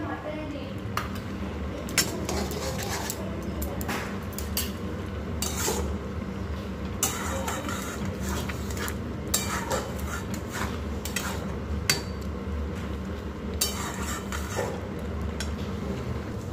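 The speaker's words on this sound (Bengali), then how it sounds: "এর মধ্যে একটু লবণ আর গোলমরিচ নিয়েছি, দিয়ে খুব ভালোভাবে ফেটিয়ে নেব।" Eggs seasoned with salt and pepper are beaten in a bowl, a fast run of light metallic clinks and scrapes that keeps going under someone speaking.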